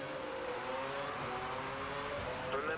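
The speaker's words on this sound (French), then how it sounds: "j'ai dû laisser passer la Ferrari de Fernando Alonso" In the F1 2013 racing game, Fernando Alonso's Ferrari passes at the Japanese Grand Prix with a steady high engine whine that shifts pitch as it goes by, under a speaking voice.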